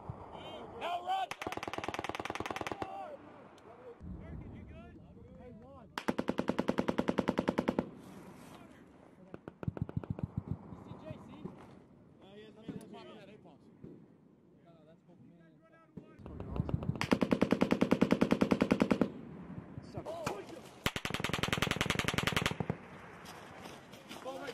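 Machine guns fire in long, rapid bursts during a US Marines live-fire training exercise on a range, loud and close, with sustained rattling volleys separated by brief gaps and shouted voices in between.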